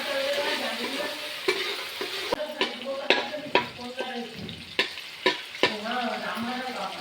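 Chili frying and being stirred in a pan while making chicken curry, with a steady sizzle broken by repeated sharp scraping and clinking strokes of a spoon against the pan, close up and moderately loud.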